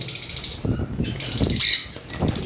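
Pet birds at a bird seller's stall, including high-mutation parrots sold in pairs: continuous chirps and calls with soft flutters, close and moderately loud, over a busy background.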